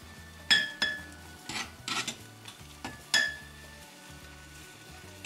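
A spoon stirs carp bait mixture in a pot, giving a handful of sharp clinks and scraping knocks against the metal at irregular intervals, close and clear over steady background music.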